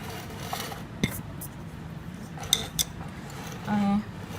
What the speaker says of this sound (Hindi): अंडा डाल के इसको अच्छी तरह से मिक्स कर लेंगे सारे को, चिकन को।